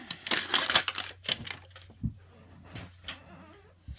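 A tightly packed Miniverse plastic ball capsule is pried open, giving several sharp close clicks and cracks of plastic with soft rustling between them, followed by a brief snap and a final click.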